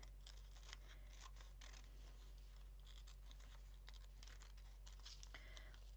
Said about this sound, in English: I'll just cut this thing out and see.